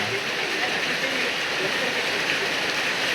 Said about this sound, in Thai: ฝนยังตกบ่เซาเลย อุ้ย ตกได้ตกดี